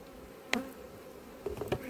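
Honeybees at an open apiary hive, a faint low buzz with a few brief louder buzzes as single bees fly close past, quiet overall.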